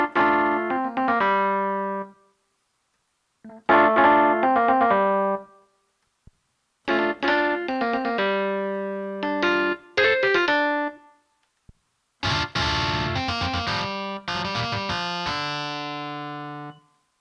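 Distorted keyboard chords from a Korg SV-1 played through an amp in short bursts separated by pauses, each phrase gritty and sustained, growing brighter and more saturated toward the end.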